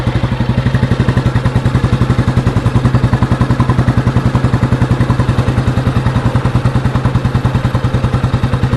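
A restored 1992 Royal Enfield Bullet motorcycle cruising on an open road at about 60 km/h, its single-cylinder engine thumping in a steady, fast, even rhythm, loud and close throughout with no talk.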